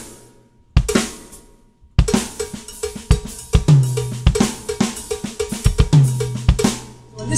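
A cowbell plays a syncopated Latino groove, sharp and close, with its metallic strikes set in a steady rhythm against low drum hits. It sounds alone, with no voices.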